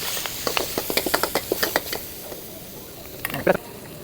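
Spices for tom yam campur sizzling in a pan at a Malaysian food stall in Beranang, with a rapid run of scraping stirs over a steady hiss, then a quieter pause and a few more stirs.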